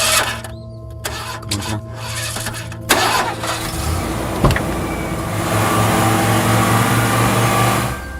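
A car engine cranks and catches at night, with repeated starter whirs and clicks giving way to a steady running idle that swells and holds, close and loud with no talk.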